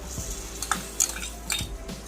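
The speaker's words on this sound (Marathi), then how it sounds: "हे पहा, सगळ्या भाज्या छान परतवल्या जात आहेत।" Vegetables and chopped tomato cooking in butter in a pan for pav bhaji, heard as soft clinks of a utensil against the pan and faint squishing stirs, with a few sharper taps spaced about half a second apart.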